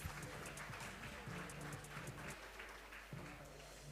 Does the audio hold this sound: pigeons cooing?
no